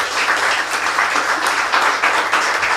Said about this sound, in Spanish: Dale un aplauso a la palabra de Dios.